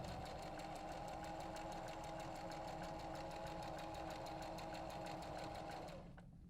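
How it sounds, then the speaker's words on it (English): A sewing machine stitches scrap fabric strips together for a necklace, a steady rapid mechanical whirr running continuously at close range with no talk, then cutting off abruptly near the end. "Remember to backstitch once you're started sewing to secure those stitches."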